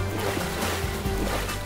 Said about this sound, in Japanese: 魔導エンジンの音がする